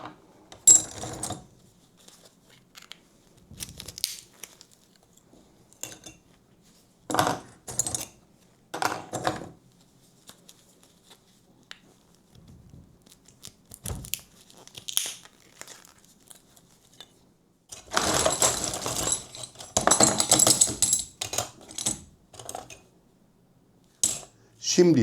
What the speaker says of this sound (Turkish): Kör bir bıçak yardımıyla bu şekilde direkt madenimizi ayırabiliriz.